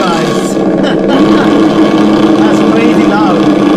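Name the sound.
ESS One sound system engine sound, throttle given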